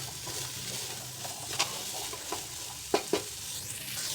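Vegetables for paneer pulao being stir-fried in a pan, giving a steady low sizzle with a few sharp scraping taps of a spatula against the metal, close and fairly quiet, no talking.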